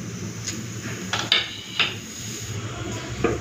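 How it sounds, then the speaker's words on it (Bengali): A knife cuts through tender young ash gourd on a board, producing a few distinct sharp taps and clicks spaced irregularly over a low background hum. "আলুটা কেটে নিয়েছি, চাল কুমড়োটা কেটে নিই"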